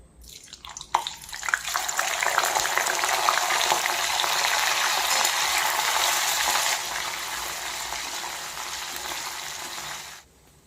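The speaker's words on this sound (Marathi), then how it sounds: "आपण पनीर तळून घेणार आहोत" Paneer frying in hot oil, a loud close sizzle that starts with a few pops and crackles, holds steady for several seconds, eases slightly, then cuts off.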